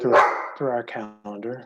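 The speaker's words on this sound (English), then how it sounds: "Sorry, that's my dog." A pet dog barks and yips several times up close, short tonal barks overlapping with someone speaking during an online meeting.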